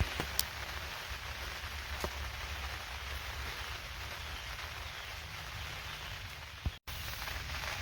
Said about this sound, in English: It started raining outside pretty heavy for a moment.